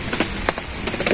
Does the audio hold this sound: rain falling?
yes